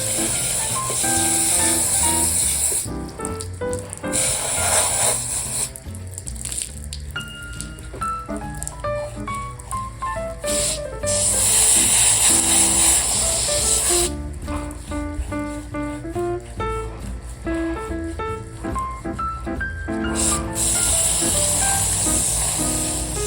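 Spray bottle misting a draft horse's tail with repeated bright hissing sprays. Some spurts are long and some short, over a background of music and soft barn sounds.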